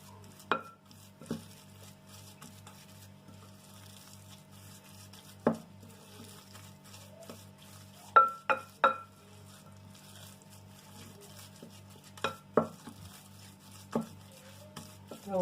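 Sardine kofta mixture being mixed in a bowl, producing sparse, sharp clinks and taps at irregular intervals over a faint steady hum, fairly quiet and close.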